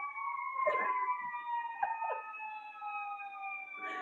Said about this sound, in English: there's sirens passing by, so I'm gonna just honor them